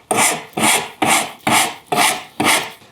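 Six even back-and-forth strokes of a hand rasp filing a chamfer on a wooden corner, each stroke a bright scratchy rasp in a steady rhythm, close and alone.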